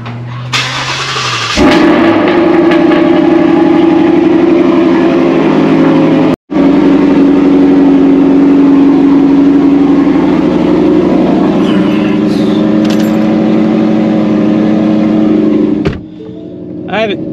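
A Mustang GT's engine cranks and fires up, then settles into a loud, steady idle with a brief cut partway through. Someone talks nearby.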